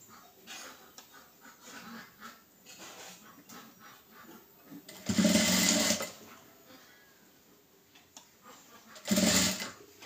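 A sewing machine stitching a blouse runs in two short, loud bursts with quiet handling sounds in between.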